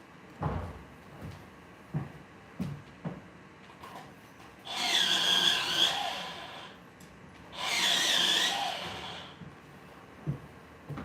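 Pencils being sharpened give two grinding bursts of about two seconds each, with scattered knocks and clicks before, between and after them.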